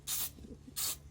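Two brief hissing bursts of spray paint on a miniature dragon, close and gentle, separated by a short quiet gap.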